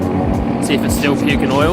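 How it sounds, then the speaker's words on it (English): Race cars lap a track at a trackday, their engines roaring and sweeping past loudly in the background while a person talks over them. "You can hear the race cars in the background"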